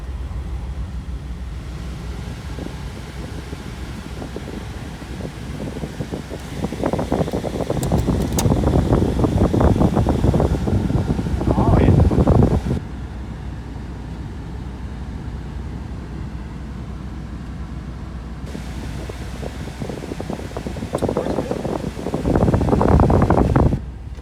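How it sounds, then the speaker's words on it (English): The air conditioning blower of a Chevrolet Tahoe police vehicle runs as a steady broadband whoosh, swelling louder in stretches as the fan speed rises, with some engine rumble underneath. "How about the AC? Oh, I hear it."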